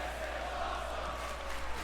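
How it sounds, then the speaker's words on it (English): A wrestling crowd at a BCW tag team championship match chants in unison, a steady, dense roar of many voices with no single voice standing out, holding at an even level for a couple of seconds. "Crowd chanting, "This is awesome.""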